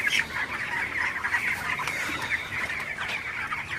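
Broiler chickens cluck and murmur steadily in a dense flock in a hot shed, a continuous close chorus with no talking.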